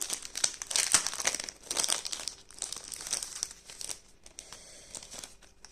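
A plastic packet of round stickers is torn open and handled close up, giving a steady stream of crisp crinkling and crackling that eases off toward the end, with no talking.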